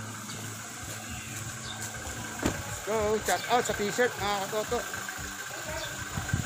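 A motorcycle engine idles with a low, steady rumble at a construction site while someone talks over it close by.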